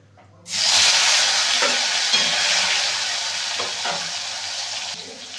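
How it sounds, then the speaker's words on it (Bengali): Loud sizzle bursts in suddenly as tomatoes fry in oil and holds steady, with occasional soft scraping of stirring in the pan. "টমেটোটা ভাজা হয়ে গেছে"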